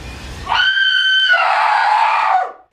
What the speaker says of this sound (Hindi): सीमा के शरीर में कोमल चिल्ला पड़ती है।